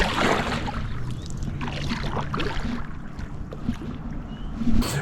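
Kayak on Lake McDonald in Glacier National Park, with steady water splashing and paddle swishes heard close by over a continuous, fairly loud wash of water and some wind, no voices.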